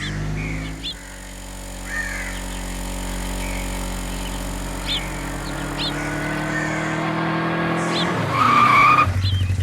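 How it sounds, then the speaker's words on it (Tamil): A car is driven hard along a road, its engine droning steadily as tires squeal and skid, with the screech growing louder near the end; crows caw occasionally in the background. "என்னடா ரேஸ்ல ஓட்டுற மாதிரி ஓட்டிட்டு இருக்க?"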